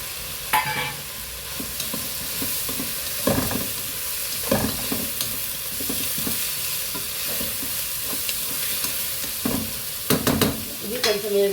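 Onions, spring onions and coriander stems fry in a pan as a base for Chinese chicken soup, with a steady sizzle broken by repeated scraping stir strokes, close and alone.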